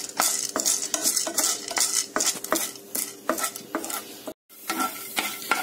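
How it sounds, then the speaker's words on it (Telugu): Chana dal and urad dal are dry-roasted in a pan for kootu masala powder, a spoon scraping and stirring the lentils in quick rhythmic strokes over a soft sizzle, close and quiet. "శనగపప్పు మినపప్పు కొద్దిగా వేగినాయండి"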